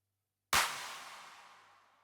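A melodic techno pre-drop hit made in FL Studio, with a sharp, bright attack and a long reverb tail that fades slowly over about one and a half seconds, alone after brief silence.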